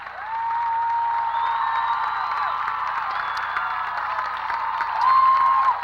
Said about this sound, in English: Crowd getting excited about it.